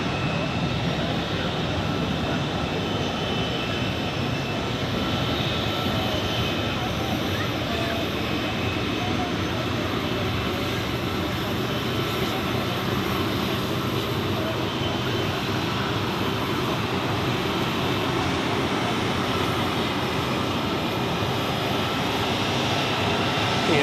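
Airbus A321 taxiing onto its parking stand at Zurich Airport, a steady broadband jet engine roar and whine that stays loud and constant throughout, with a voice talking faintly underneath.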